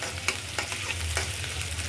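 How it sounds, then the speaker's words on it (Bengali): Chopped onion and garlic fry in oil in a wok for a winter vegetable bhaji, a close, even sizzle with a few scraping stir strokes and no talking. "একটু ভাজা ভাজা হোক।"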